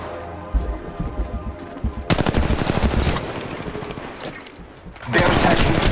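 Automatic gunfire from an attacking squad in the video game Apex Legends Mobile: rapid, loud bursts of rattling shots, one long volley followed by a second burst near the end, over quieter in-game noise.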